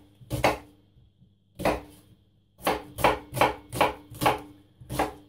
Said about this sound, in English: So I'll just finely chop onion.